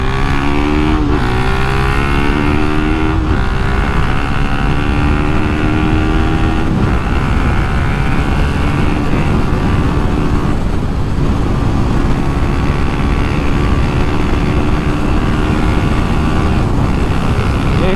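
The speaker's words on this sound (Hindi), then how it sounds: "थोड़ी भगाएं, गर्म करें बाइक को।" A KTM RC 390 motorcycle is being ridden to warm it up. Its engine roars loud and close with rising pitch sweeps early on, then settles into a steady, rushing drone of engine and wind for the rest of the run.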